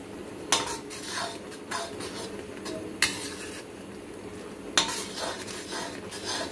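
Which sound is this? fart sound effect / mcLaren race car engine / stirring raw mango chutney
stirring raw mango chutney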